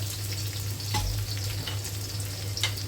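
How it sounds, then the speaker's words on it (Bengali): Chopped onion and garlic fry in hot oil for a duck curry, a loud, close, continuous sizzle with scraping stirs and a low hum underneath. "আর এখানে আগে থেকে কেটে রাখা পেঁয়াজ আর রসুন কুচি দিয়ে দিলাম"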